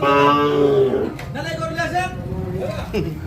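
A Sahiwal bull calf gives a long, close moo at a cattle farm in Kushtia, then quieter lowing sounds while people talk nearby.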